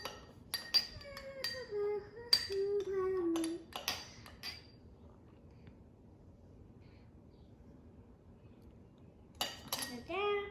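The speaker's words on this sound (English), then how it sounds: "Got the big spoon. Mix, mix, mix. Make it purple." A big spoon stirs colored liquid in a glass jar, sending bright metallic clinks against the glass in short irregular bursts, close by, with a child and an adult talking in between.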